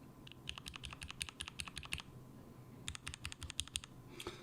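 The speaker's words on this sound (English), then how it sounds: "keys like the ones that are deep dish, they do sound kind of weird" Typing on an Instant60 mechanical keyboard fitted with deep dish keycaps: two quick bursts of rapid, crisp key clicks, close and quiet, separated by a short pause.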